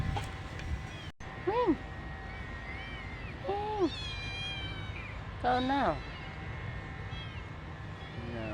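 A hungry cat meows several times, short rising-falling cries spaced a few seconds apart, close by, with people talking quietly in between.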